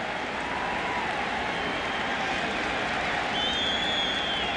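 A baseball stadium crowd of over 57,000 in St. Louis roars and cheers steadily during a 1996 playoff game between the Braves and Cardinals, a dense, continuous wash of distant voices and applause with no announcer speaking.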